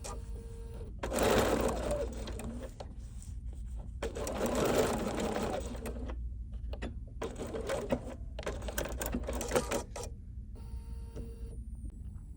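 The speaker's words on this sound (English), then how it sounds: "I'm just gonna stitch a little box" A sewing machine stitches a small box onto a fabric label for a wristlet pincushion, running in four loud close bursts of a few seconds each, separated by short quiet pauses.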